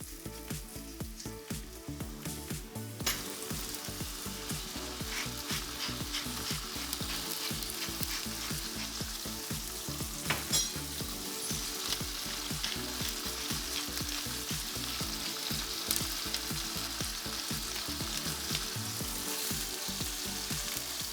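Chicken breasts searing in a hot pan with a loud, continuous sizzle and crackle close by, steady throughout without any voices.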